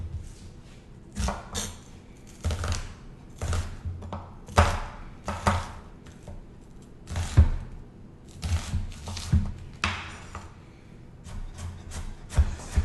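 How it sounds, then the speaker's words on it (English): Knife dicing an onion on a cutting board, a series of sharp, irregular chops and taps spaced through the whole stretch, close and fairly crisp, with no voices. "let's dice our quarter cup of onion"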